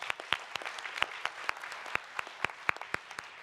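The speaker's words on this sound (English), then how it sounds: "Big round of applause." A conference audience at the EIT Summit 2024 applauds an awardee, with sharp, uneven claps over a softer wash of applause, moderately loud and without talk.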